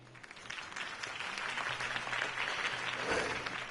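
A crowd applauds after a campaign speech: faint, even, continuous clapping heard from a distance, with no voices over it.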